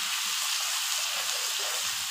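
Onions fry with ginger garlic paste in a pan, making a dense, continuous crackling sizzle that stays close and even throughout.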